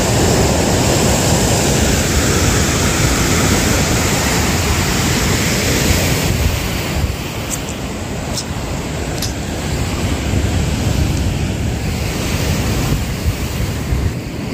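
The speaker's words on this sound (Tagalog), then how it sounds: "Sobra ang alon, lalaki." Heavy sea waves roaring continuously, loud and close, with wind buffeting the microphone throughout and no clear break in the surf.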